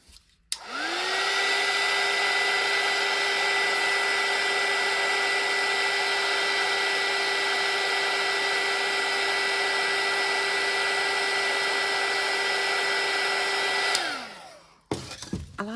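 A handheld dryer blows steadily for about fourteen seconds, drying ink on a Halloween grungy flowers craft piece: loud, even whooshing hum with a clean start and stop, no talk.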